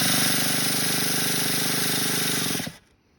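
A remote starter cranks an unfueled Revo big block RC engine in one loud, continuous buzzing whir lasting over two seconds, then cuts off abruptly into quiet.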